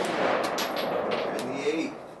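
Several muffled gunshots at a shooting range sound out one after another over a constant rush of background noise, with no clear speech.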